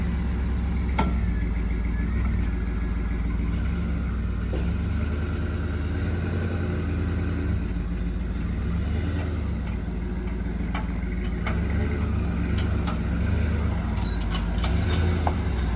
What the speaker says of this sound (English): Listen to that exhaust leak, though.